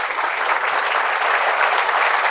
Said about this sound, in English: Give a round of real applause to the lady who made this possible.